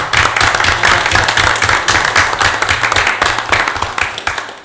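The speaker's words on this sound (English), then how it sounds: "I think we should give our heads here a round of applause for the work that they are doing." Audience at a town council meeting applauds steadily, a dense wash of many hands clapping close by that tapers slightly toward the end, with a low hum underneath.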